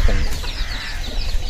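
Fighting rooster and black hens in a village farmyard near Bhimavaram, with loud, close, continuous clucking and fowl calls and no talk.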